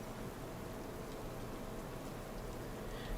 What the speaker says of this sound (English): Light rain, okay.